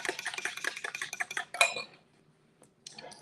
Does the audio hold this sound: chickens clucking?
no